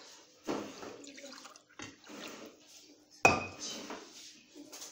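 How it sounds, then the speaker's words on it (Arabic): Water poured into a glass holding leftover yeast in a kitchen, heard as short splashing pours and clinks of the glass, close by and fairly clear, with small knocks between the pours and no talking. "بقى عندي شويه هنايا، غنحاول ندير فيها شويه ديال الماء"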